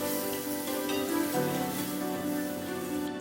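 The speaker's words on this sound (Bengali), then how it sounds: "মশলাটা একটু কাঁচা গন্ধ যাওয়া অবধি কষে নেব" Masala spices fry in a pan over low heat for rajma, giving a steady close sizzle with faint stirring scrapes.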